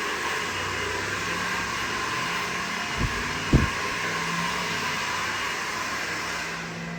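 A hair dryer blows with a steady whooshing hum, joined by a couple of brief soft knocks partway through.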